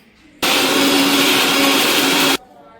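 A mixer grinder whirs loudly and steadily for about two seconds while grinding gongura chutney with chillies and garlic, starting and stopping abruptly amid a quiet kitchen.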